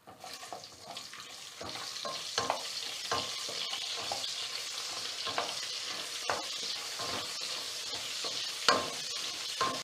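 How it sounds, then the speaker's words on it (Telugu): Chopped onion and cashews frying in a pan for a jackfruit biryani, a steady close sizzle running throughout with frequent scraping stirs of a spatula, and no one talking. "కాజు కూడా కొంచెం వేగింది కదా మనము చాప్ చేసి పెట్టుకున్న ఒక పెద్ద సైజ్ ఆనియన్ మొత్తం వేసేసుకున్నాం"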